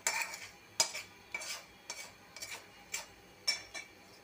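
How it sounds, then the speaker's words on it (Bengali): Boiled pointed gourd peels are ground on a stone slab with a grinding stone, making rhythmic scraping strokes about twice a second, each a short gritty rasp, close and fairly quiet with no talking. "এখন আমি এই যে পাটায় বাইটা নিব।"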